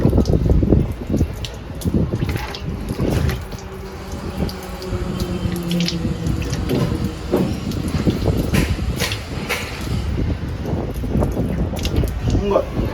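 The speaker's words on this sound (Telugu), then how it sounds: "నేను ముఖం కడగాలి." Water runs from a tap as someone washes their face, a continuous splashing flow with hand splashes, heard close alongside talking.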